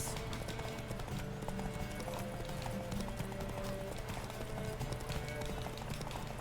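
Horse hooves galloping in The Witcher 3 video game, rapid rhythmic clip-clop that stays steady and moderately close throughout, with faint background music.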